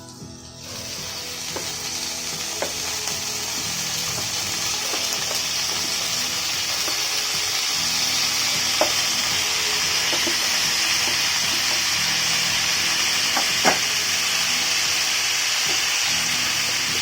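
Raw nethili anchovies sizzle in a pan for an iguru curry, a steady close frying hiss that holds evenly and grows slightly fuller, with a few faint clicks of the pan and no voices.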